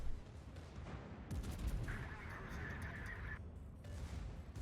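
Secondary guns of the German battleship Schlieffen fire in World of Warships as a rumbling series of muffled booms, with a brief higher tonal whine in the middle and no talking.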